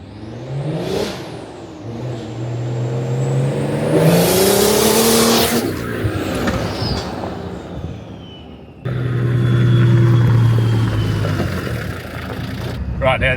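A Nissan Patrol drives along, its engine revving and rising through gears, with a brief lull and then a steady loud cruise toward the end.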